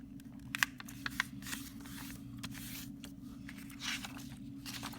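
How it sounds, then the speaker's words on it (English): Sheet of paper being folded and creased by hand, several crisp rustles and sharp crackles scattered over a low steady hum, no voices. "you can actually fold your paper, fold it up like this"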